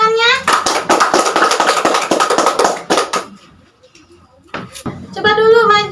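Children in a classroom lesson clap their hands together as applause: a dense, rapid burst of close, crisp claps lasting about three seconds. Voices speak before and after.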